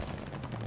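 Bursts of MG42 machine gun fire in Call of Duty Vanguard, a dense, rapid rattle that runs steadily and loud through a short moment with no talk over it.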